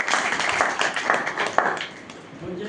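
Audience clapping at a Punjabi literary gathering, a brief patter of scattered hands that fades toward the end, heard over faint background murmur.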